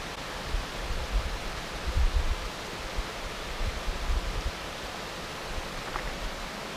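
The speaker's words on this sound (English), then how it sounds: "Now here's a smaller stream gushing out of the cracks in the rock here." A small stream gushes out of cracks in the rock at Big Spring, Missouri, giving a steady, broad rushing wash of water with soft low rumbles, near and continuous with no voices.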